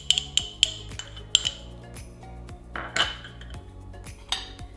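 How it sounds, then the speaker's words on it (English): Egg yolks being mashed with a fork in a dish give repeated sharp metallic clinks and taps against the bowl, close and irregular, with soft scraping between them. "Now I am going to mash egg yolks with a fork."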